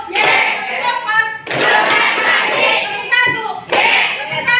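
Children in an Indonesian classroom play a counting clap game, chanting together while their hands clap in quick rhythmic bursts, with short pauses between rounds.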